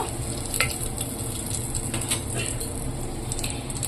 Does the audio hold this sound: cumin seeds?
yes